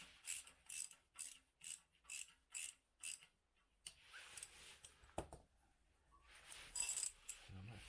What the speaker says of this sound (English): Got a 13mm socket on this exhaust clamp here. We'll loosen this off.